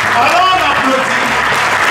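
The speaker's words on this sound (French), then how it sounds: "Alors on applaudit." Audience at an event breaks into sustained clapping, a dense and even patter heard close, with music and a voice continuing underneath.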